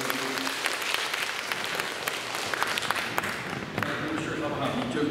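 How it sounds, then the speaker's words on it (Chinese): Church congregation applauding to welcome a pastor, a dense, steady wash of many hands clapping that fills the room for several seconds, with some voices mixed in. "我们大家拍手欢迎罗牧师"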